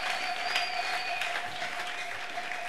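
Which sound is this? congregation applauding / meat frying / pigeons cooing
congregation applauding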